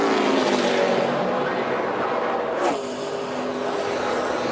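A race car coming down the front straightaway at Indianapolis on the final lap, its engine roaring loud and steady before a brief dip as it passes, with crowd and commentary noise underneath.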